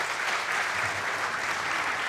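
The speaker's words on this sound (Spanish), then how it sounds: "Un aplauso para el presidente del Banco Central." A conference audience applauds the Central Bank president with dense, even clapping that holds steady throughout, close and full with no voices over it.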